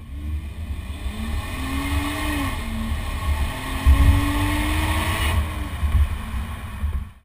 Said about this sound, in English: Currently, I'm driving the Chevrolet Equinox